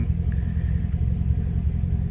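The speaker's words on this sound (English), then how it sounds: "Right now the car's running." Corvette engine idling steadily, a continuous low rumble close by with no talk over it.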